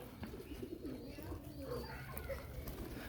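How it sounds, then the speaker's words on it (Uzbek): Flying pigeons brought together in a loft coo softly in low, repeated murmurs, faint and steady under a quiet background. "Toshnamizni o'zini boqib uchirib yurgan kaptarlarni hammasini olib keldim, yig'ishtirib."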